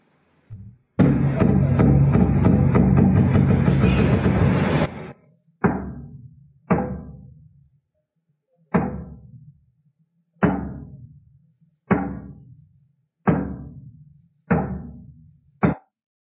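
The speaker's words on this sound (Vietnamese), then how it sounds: "tiếng trống phát ra từ cái trống." A drum is struck: a sustained loud roll or rumble up front, then eight sharp, separate hits at roughly even intervals, each decaying quickly, close and loud with no voices.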